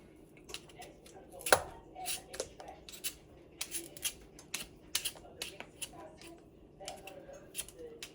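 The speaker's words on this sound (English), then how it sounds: "Now, I'm gonna make cube butternut squash." A butternut squash is cut into cubes with sharp, irregular knife taps on a cutting board, one louder chop near the start, then steady close clicks under a quiet room.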